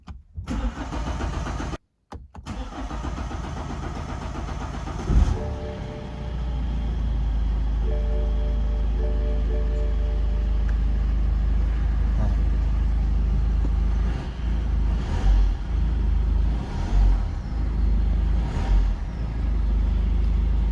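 BMW 120d diesel car engine cranking after a service, with a couple of short starter bursts and gaps before catching and settling into a steady, loud, close idle that continues with slight fluctuations.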